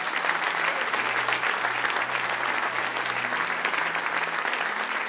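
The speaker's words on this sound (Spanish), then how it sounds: "Un aplauso a él," A full church congregation claps in sustained, dense applause, loud and even throughout, with a faint low hum underneath and no one speaking.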